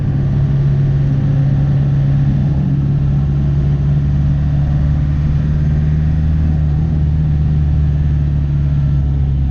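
A 1997 Land Rover Defender with a 300 TDI diesel engine and manual transmission runs steadily close by, a deep low engine drone that holds nearly constant with only slight rises, no voices over it.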